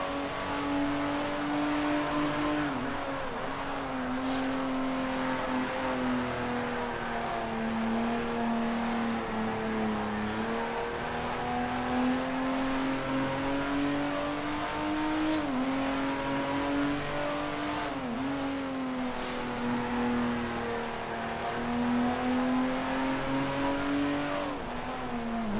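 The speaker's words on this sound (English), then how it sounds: "Hearing some engine noises from the other side of the track." Race car engines in the sim racing game Grand Prix Legends, with 1955 Formula One cars: a continuous loud engine drone that rises and dips with shifts and throttle changes for the whole stretch.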